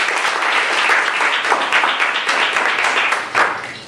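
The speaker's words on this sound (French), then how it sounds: "On les applaudit très très fort." A live audience at the Miss Afrique Montréal 2013 pageant applauding contestants, dense steady clapping from many hands filling the space at a loud, even level throughout.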